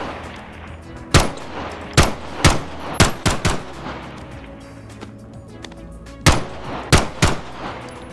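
Gunfire from a modded full-auto pistol in the VR game Bonelab: a run of six sharp, loud shots in quick uneven succession, a pause, then three more close shots, with no talk.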